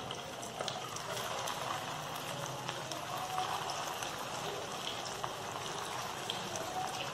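Suji and aloo kachoris frying in hot oil, a steady dense bubbling sizzle that runs unbroken throughout, close and even in level, with a voice faintly audible beneath.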